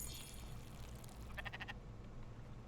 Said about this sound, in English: Baba sheep in the background.